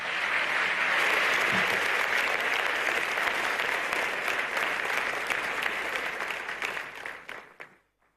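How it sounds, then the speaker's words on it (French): An audience applauds warmly and continuously at an official ceremony welcoming Prime Minister Ousmane Sonko, the dense clapping holding steady before fading out near the end. "le Premier ministre, Monsieur Ousmane Sonko, qui va à présent introduire les présentations sous vos applaudissements, s'il vous plaît."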